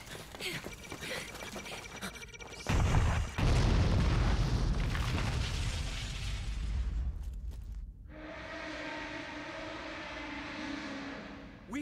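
Cannon fire from the video game Hyrule Warriors: Age of Calamity, with a heavy boom followed by a sustained roaring explosion and rumble, then a steadier loud battle noise continuing to the end.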